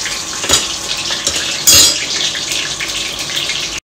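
Burger patties and chicken nuggets deep fry in hot oil, a close, steady sizzle with clinks and scrapes of a utensil against the pan and no talking.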